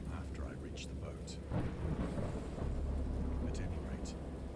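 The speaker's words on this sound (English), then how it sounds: "I heard peals of thunder and other tones which nature utters only in her wildest moods" Deep rolling peals of thunder in a fierce storm, a low continuous rumble that swells midway, with faint hiss of rain over it and no voices.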